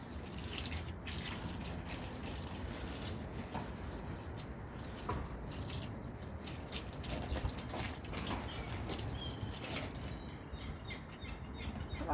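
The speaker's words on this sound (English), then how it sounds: "so I normally just water the plants." Water splashing and dripping steadily outdoors while plants are watered on a mild morning, a continuous close wash of trickling sound with occasional bird chirps in the background.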